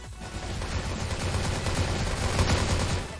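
Sustained automatic gunfire from a CrossFire match on an AI mode map, with dense, continuous bursts that stay loud and close for the whole stretch, with no voices over it.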